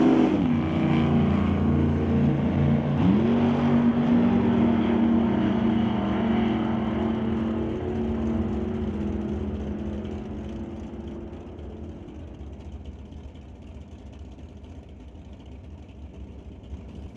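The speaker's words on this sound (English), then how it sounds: "Dean Peterson, the next one up, running the Super Gas 990 Index in the open-top Mustang against Brad Vingy for the BNC Racing Chevy" Super Gas drag race run pitting an open-top Mustang against a BNC Racing Chevy: loud, close engine roar with a rising pitch sweep early on, the sound thinning and fading toward the end, with no talk.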